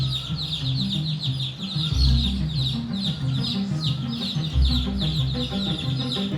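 Hens cluck low and steady while chicks peep in a constant high chatter at a poultry farm, a busy close-up flock with no talking.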